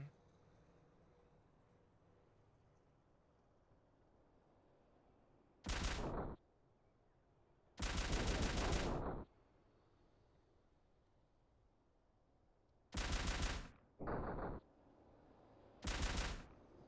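Five separate bursts of loud, rapid gunfire in a video game, each lasting about a second, spaced apart by quiet background hiss.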